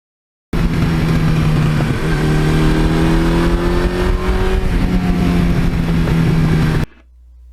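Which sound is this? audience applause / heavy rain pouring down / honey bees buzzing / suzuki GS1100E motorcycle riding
suzuki GS1100E motorcycle riding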